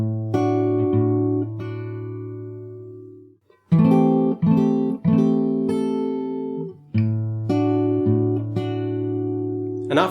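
Acoustic guitar picked fingerstyle in a slow melodic theme from The Last Of Us Part II, clean plucked notes and low bass tones ringing out in short phrases separated by brief pauses, close and alone.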